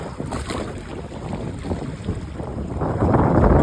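Strong stormy wind buffets a boat on open water, roaring steadily with gusty microphone rumble and splashing that swells louder toward the end; no speech.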